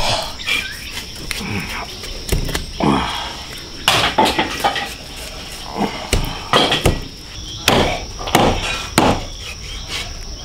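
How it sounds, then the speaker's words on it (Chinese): Yak spare ribs are hacked apart on a chopping board, giving irregular sharp, loud knocks scattered over several seconds with softer scrapes and handling noise between them. "先把它劈开，等再剁。"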